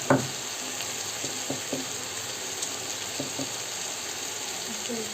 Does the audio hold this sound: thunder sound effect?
no